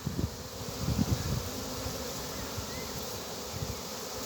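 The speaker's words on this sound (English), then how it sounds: "Definitely a yellowy type or bee." Yellowish honey bees buzz in a continuous hum around a hive in an open field, with close passing bees adding louder pulses early on.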